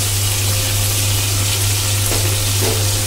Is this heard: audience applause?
no